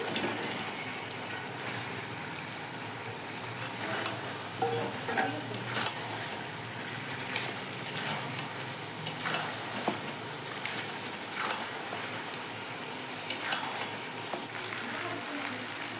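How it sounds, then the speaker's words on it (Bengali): Chicken pieces frying in masala in a pan, a low continuous sizzle broken by irregular scraping and clinking stirs, heard alone without talk. "মশলাটা কষানো হচ্ছে তো অনেক সুন্দর একটা স্মেল বেরোচ্ছে চিকেন ভেজে রাখা চিকেনটা দিয়ে দিচ্ছি"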